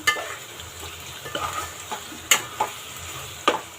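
Mutton simmers and bubbles in a pot for biryani, a soft, steady sizzle close by, broken by a few sharp clicks and taps of a spoon against the pot, with no talking.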